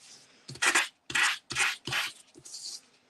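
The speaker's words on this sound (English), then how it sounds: "I'm just going to do a bit of sanding to show up the white core." Four or five firm strokes of a sanding block rasp across white-core card paper, each a separate scrubbing pass, close and distinct, ending with a lighter rub.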